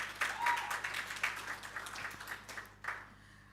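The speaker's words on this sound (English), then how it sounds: "Please give her a round of applause." Audience applause at a government launch event for a Know Your NPO Status campaign: a short, steady burst of many hands clapping that swells early and then fades unevenly over a few seconds.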